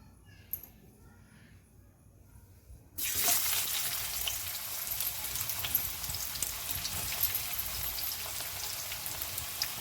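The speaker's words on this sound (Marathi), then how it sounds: "तर तेल टाकून घेतलं आहे मस्तपैकी, आणि त्याच्यामध्ये काय करते आता, कांदा टाकून घेते." Onion sizzles loudly as it drops into hot sweet oil, the steady broadband frying hiss starting abruptly after a few seconds of near quiet and continuing evenly to the end.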